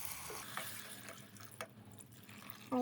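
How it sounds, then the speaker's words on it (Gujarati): Hot water is poured into a pan of Maggi noodles, a faint, soft trickling splash that runs steadily with a few small clinks and no talking. "થોડું ગરમ પાણી નાખી દઈએ"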